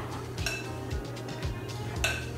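A little spoon stirs muffin batter in a bowl, scraping and clinking against the sides in a steady rhythm of about four strokes, close and fairly quiet.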